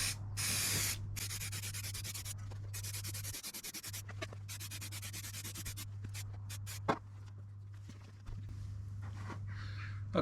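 Spray paint hisses from a can in long bursts with short pauses while the wheels of a self-built Citroen Relay camper van are painted, over a steady low hum, with no talking.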